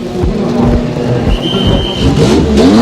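A race car at Le Mans in 1995 fires up and revs loudly after a pit stop, its engine roaring continuously with rising and falling pitch close to the listener.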